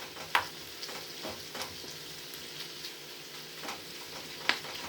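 Pork stir fry sizzles steadily in a pan, a soft continuous crackle with a few sharp ticks of utensils or popping oil, fairly quiet and without talk.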